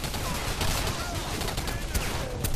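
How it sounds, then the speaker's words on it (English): Rapid gunfire from the Singularity video game, a dense continuous burst of shots filling the whole stretch at close range with no pauses. "I shot that guy's leg off."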